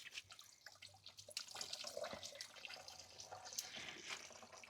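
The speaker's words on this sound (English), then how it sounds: "Right, so as you can see, the water is trickling out." Water trickles and drips steadily from a gravity-fed worm tea brewer, a soft continuous splashing flow with scattered droplet taps, moderately quiet and close.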